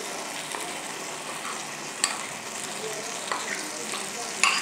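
Coconut paste for a baby jackfruit curry is stirred in a pan, with a steady sizzle and frying hiss and occasional scraping clicks of the spoon against the pan.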